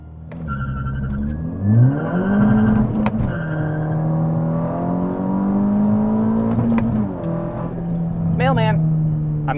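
MK6 GTI with a CTS Turbo downpipe accelerating hard with traction control off, engine climbing in pitch through the gears, loud and close from inside the car, with tire squeal near the end.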